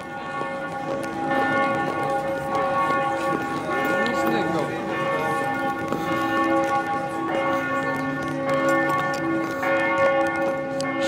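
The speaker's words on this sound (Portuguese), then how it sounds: "agora são meio-dia, tocando o sino do meio-dia" A church bell tolls noon in Ljubljana, a steady sustained ringing over city street noise, with someone speaking over it.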